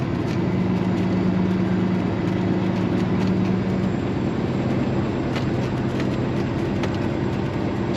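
A truck engine idles steadily nearby while getting ready to back in at a precast delivery site, a loud, unbroken low drone with faint clanks and ticks scattered on top.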